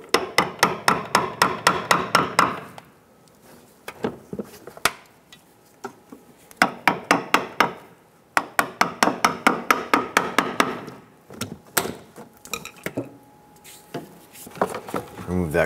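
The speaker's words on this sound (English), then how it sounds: "Use your trim tool to pop out the base inserts here" Trim tool popping plastic base inserts out of a 2008-2013 Nissan Rogue during AC compressor work, heard as bursts of sharp rapid clicks and knocks with pauses between, close to the microphone.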